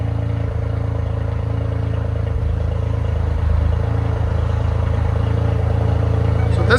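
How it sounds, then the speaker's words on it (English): A Toyota Corolla GR turbocharged three-cylinder engine with its resonator deleted idles steadily, a low continuous rumble with a slight lift midway through and no talking. "Here we go, Toyota Corolla GRC Turbo 3-cylinder. Go ahead. We just did a resonator delete on it."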